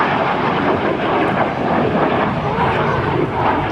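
F-86 Sabre jet flying a demonstration at an airshow in Dayton, a loud broad roar of jet engine noise rushing steadily for several seconds, with no clear talk over it.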